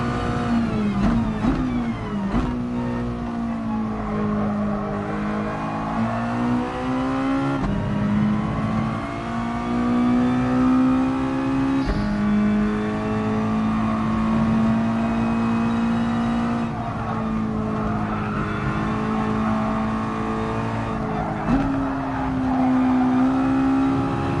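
A Mazda touring car races around Dragon Trail Gardens in a racing video game, its engine droning loud and steady as the pitch climbs and falls through gear changes, with a few brief clicks.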